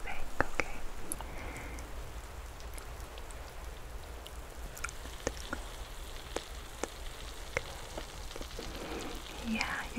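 Soft crackling and sizzling in the ear during an ASMR head spa and ear cleaning, with fine scattered pops and a few sharper ticks over a quiet hiss. The sound is close and gentle and continues throughout.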